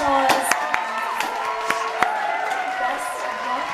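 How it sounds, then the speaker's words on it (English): Studio audience at a talk show applauds and cheers, a dense crowd wash of claps with a few sharp louder hits, voices shouting over it. "Everyone, round of applause."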